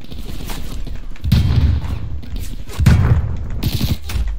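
Bursts of gunfire in Call of Duty Black Ops Cold War, with heavy booming volleys and rapid shots arriving in clustered waves, loud and close, with brief quieter gaps between.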